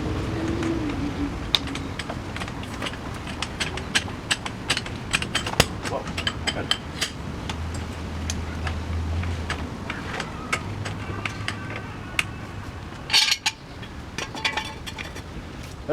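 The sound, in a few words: jacking up a Jeep Grand Cherokee onto a jack stand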